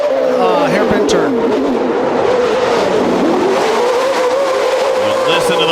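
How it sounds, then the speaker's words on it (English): Off-road race truck engines revving and winding up through a hairpin turn at a TORC short-course race at Crandon, loud and continuous with shifting pitch as the trucks accelerate, under an announcer's commentary. "listen to those motors, those engines wind up"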